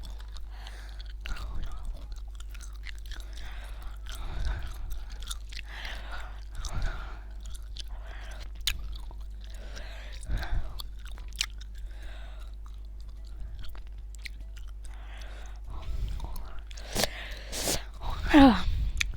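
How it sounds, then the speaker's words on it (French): Close, wet chewing of mint gum, steady rhythmic mastication with soft smacks repeating throughout, heard alone with only faint breaths and a brief louder rustle near the end. "si vous m'entendez mâchouiller, c'est normal, je prends un chewing-gum"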